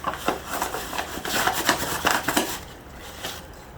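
Flour being combined with mashed sweet potato in a bowl for Jamaican sweet potato pudding, a steady run of soft scraping and rubbing strokes with light clinks of a utensil against the bowl, close and alone.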